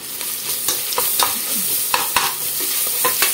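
Ginger and small onion paste frying in a pan while being stirred, a loud sizzle broken by repeated scraping and clinking strokes of a spoon against the pan, with no talking.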